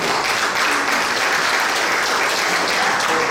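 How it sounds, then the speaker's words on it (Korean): Encouraging applause fills the hall at a general assembly, dense and continuous clapping from a large seated gathering, loud and even from start to finish. "우리 감사의 격려 박수"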